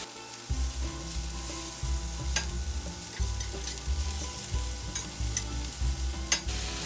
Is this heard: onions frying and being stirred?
yes